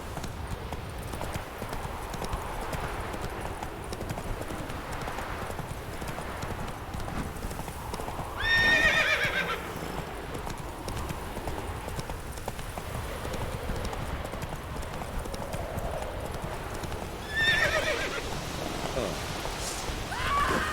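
Roach the horse in The Witcher 3 gallops with a steady clip-clop of hooves, and two short neighs break through over a faint rain-like hiss in the background.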